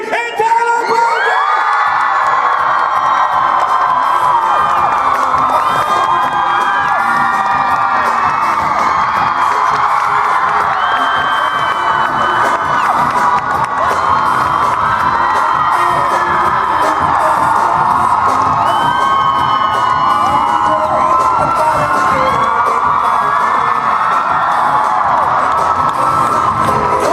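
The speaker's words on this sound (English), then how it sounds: "I need you guys to howl as loud as you can. Get up on your feet, clap, scream for Crystal Reed and Tyler Posey!" A packed convention hall crowd at a TV show panel howls, screams and cheers without letup, a loud, dense roar of high whoops and shrieks that holds steady throughout.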